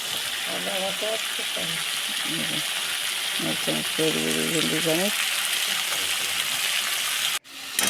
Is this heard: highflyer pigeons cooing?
no